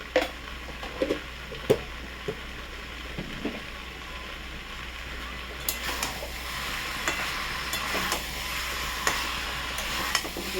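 A spoon stirs cumin-spiced daliya khichuri in a hot pan, with steady scraping and stirring over a soft sizzle of frying, close by and fairly quiet, occasional sharper scrapes against the pan.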